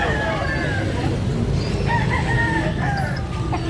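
A rooster crows repeatedly in a busy outdoor market where gamecocks are offered for sale, loud and close over steady crowd noise and low rumble.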